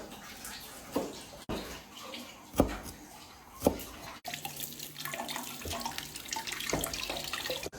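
Food is rinsed under a running kitchen tap in a home, with a soft, fairly distant stream of water broken by intermittent splashes and thumps as items are handled.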